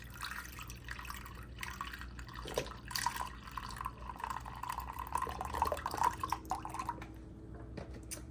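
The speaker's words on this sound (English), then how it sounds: "I am going to be just using some beef broth as my liquid. I'm going to pour it in over here" Beef broth is poured into a cooking pot, giving a soft, continuous liquid splash and trickle at close range for several seconds, with some faint background noise.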